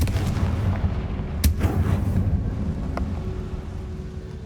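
A Confringo fire spell from the Hogwarts Legacy video game lands as a sharp explosive blast, loud and close, with a booming low rumble and crackling debris that trails off over the following seconds; no talking.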